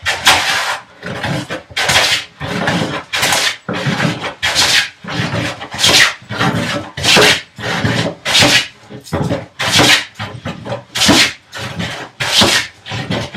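Hand plane cutting along a large wooden workbench apron, repeated rasping strokes in a steady back-and-forth rhythm, loud and close.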